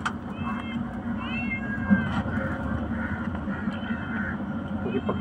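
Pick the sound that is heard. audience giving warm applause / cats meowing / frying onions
cats meowing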